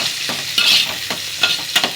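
Onion and green chili fry in hot oil in a kadai, a bright steady sizzle broken by several sharp scraping stirs of a spoon against the pan, close and fairly loud.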